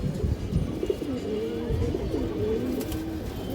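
Black Bagha pigeons coo in a repeated, throaty stream from nearby, the soft rolling calls overlapping steadily with no voices.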